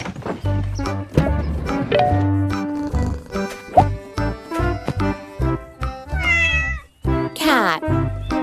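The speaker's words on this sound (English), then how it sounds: "Cat." A cat meows repeatedly in close, clear calls amid other farm animal sounds, with a light jingle in the background.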